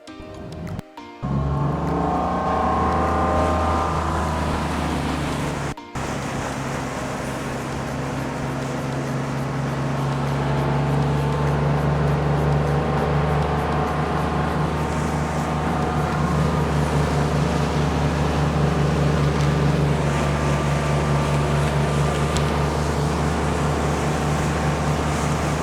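A Cobalt R6 surf boat runs steadily on the water, its engine a loud continuous low drone with a broad wash of hull and water noise, holding level throughout with one brief break near the start.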